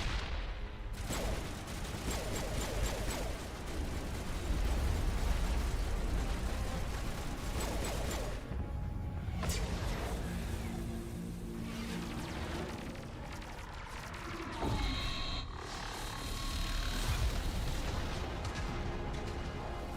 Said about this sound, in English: I can actually go ham with grenades now,